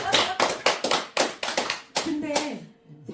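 Hands clap in a steady burst of sharp, bright claps at a Buddhist dharma talk, a small group rather than a large crowd, fading near the end as a voice briefly sounds.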